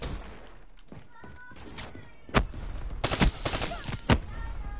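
Video game gunfire, a few loud sharp shots and a quick burst standing out from a busy background of combat sounds.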